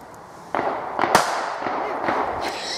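Several sharp gunshots crack in a forest during a home guard shooting, spaced irregularly over a few seconds with echoing tails, fairly close and with no talk over them.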